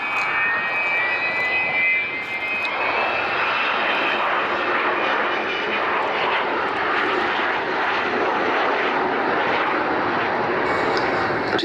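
A continuous loud roar from the Avro Vulcan bomber's jet engines on its first display after restoration, steady and broad, holding a sustained rumbling whine throughout.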